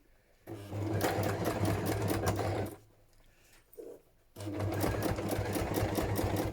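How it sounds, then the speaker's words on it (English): A sewing machine runs a large straight stitch through thick layers of fabric for a junk journal, with two loud steady bursts of rapid stitching separated by a quiet pause and a small knock. "I'm using a straight stitch, and quite a large straight stitch, and I'm just going to work my way through"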